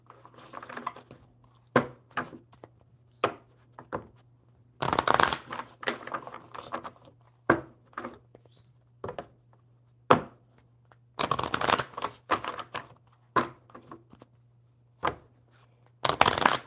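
Bursts of a deck of cards being shuffled, crisp riffling flutters recurring every few seconds with soft card handling between, close and fairly loud over a low hum.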